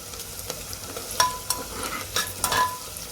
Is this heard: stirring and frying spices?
yes